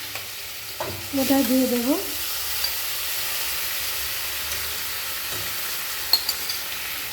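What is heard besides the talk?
chicken mince frying in hot oil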